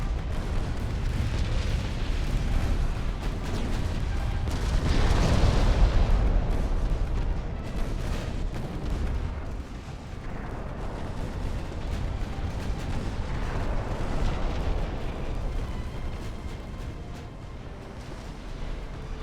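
Torpedo explosions in the naval warship game Ultimate Admiral: Dreadnoughts, deep rumbling booms swelling and fading over a continuous low roar, with a big blast near the middle and a softer one later.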